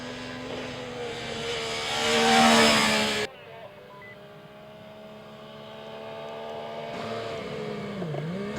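A 2016 MV Agusta Brutale 800 motorcycle on the move, its engine droning loud under rushing wind, then dropping sharply to a quieter, steady hum before building again toward the end.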